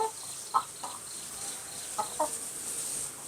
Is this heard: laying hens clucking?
yes